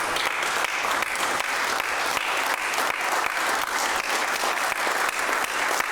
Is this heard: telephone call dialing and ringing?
no